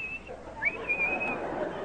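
A person whistles an imitation of a tom-tit's call: a high held note, a quick upward flick, then a longer wavering tone, close and alone.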